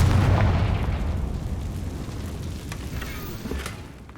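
Confringo fire spell blast in Hogwarts Legacy, a single booming explosion that hits at the start and then rumbles and decays over several seconds, with faint crackling debris toward the end.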